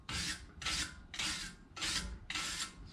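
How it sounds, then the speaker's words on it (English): Abrasive scuffing on the front brake hub of a BMW 340i during a brake job: five steady back-and-forth rasping strokes in even rhythm, close and clear, with no talk. "scuff down the hub again."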